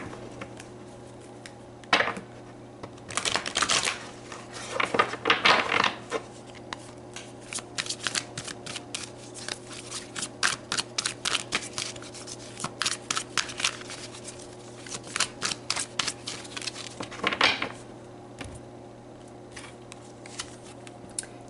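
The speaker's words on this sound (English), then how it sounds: "let's pull some more cards" Tarot cards shuffled and drawn at a reading, crisp riffling bursts and quick flicks in uneven runs, close and fairly quiet, with no voices.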